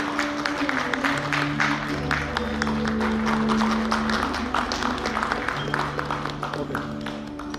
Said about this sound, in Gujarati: આપણે તાળીઓ સાથે એમનું અભિવાદન કરશું.